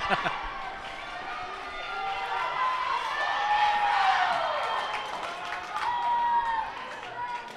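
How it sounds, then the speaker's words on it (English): A crowd at a women's handball final between New South Wales and Queensland cheers and shouts steadily in an indoor arena, the voices swelling and falling, with squeaking shoes on the court and a loud commentator voice over the noise. "Crowd's getting vocal, trying to bring the Queensland girls up to score another goal"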